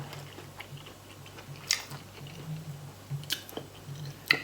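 Close, quiet chewing of spicy pork ear salad, with a few distinct crunchy bites breaking through softer mouth sounds and no talking.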